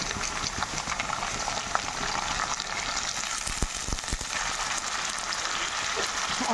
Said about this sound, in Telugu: ఈ మూమెంట్లో మనం చికెన్ వేసుకుందాం.